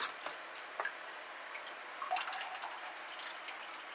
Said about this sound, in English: So let's give that a good water.